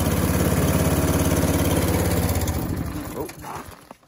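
A Honda HSS 928 snowblower engine runs loudly at a cold start in -5F weather, chugging with a rapid, steady pulse before sputtering and dying away near the end.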